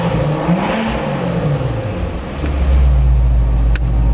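A Corvette's engine revs up from a steady idle, its deep exhaust note swelling louder and fuller partway through and holding a strong low rumble to the end.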